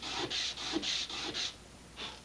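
Hand file scraping burrs off small plastic parts for an Estes Vanguard Eagle model rocket, about seven short rasping strokes in a quick steady rhythm with a pause before the last, close and fairly quiet.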